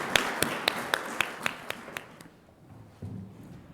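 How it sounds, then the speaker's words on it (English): A few slow, sharp claps in a congregation gathering ring out in an even rhythm, then fade to quiet room tone followed by a low voice. "we have a round of applause for all of this excitement about our congregation"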